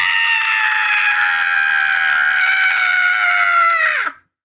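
A voice imitates someone screaming: one loud, high, drawn-out yell that holds steady for about four seconds, then drops in pitch and cuts off abruptly.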